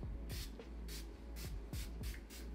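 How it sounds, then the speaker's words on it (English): Farsali face setting spray misted onto a face in a makeup routine, heard as five short, fairly close hissing bursts spaced about half a second apart over a low background hum, with no talking. "and spray the face."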